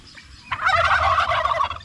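Male turkeys gobble loudly and close by in one sustained burst that rises after a brief quiet start, heard from a flock of toms squabbling over a hen.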